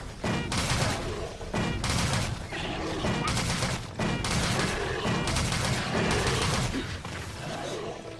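Rapid bursts of cluster rounds fired from a Pecopious bowgun in Monster Hunter 3 Ultimate during a desert hunt, a dense, loud, continuous volley of explosive blasts with brief gaps between salvos.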